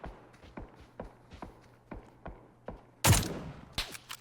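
Gunfire in a PUBG-style battle royale game bursts out suddenly after a stretch of quiet, evenly spaced footsteps, with a few more sharp shots following from AK47 and Kar98k rifles.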